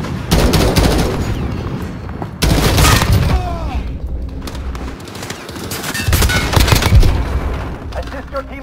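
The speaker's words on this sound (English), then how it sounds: "Enemy cruise missile!" Enemy cruise missile strike in a fast-paced shooter match: heavy booming blasts and rapid bursts of gunfire hammer through the whole stretch, close and loud, with a voice shouting briefly amid the chaos.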